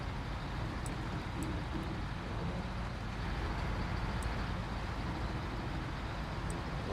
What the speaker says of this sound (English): it's hard to see every time the exhaust comes out of the truck.